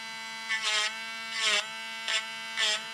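A rotary tool with a small carbide tip bit whines steadily and touches metal jig heads to clean off sprues, in four short grinding bursts over a constant motor hum.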